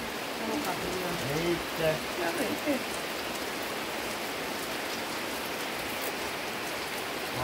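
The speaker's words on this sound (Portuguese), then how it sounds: "Ah, só observando a chuva, né?" Heavy rain pours steadily through a November thunderstorm at night, a dense, continuous hiss of drops on surfaces, with a voice exclaiming briefly early on.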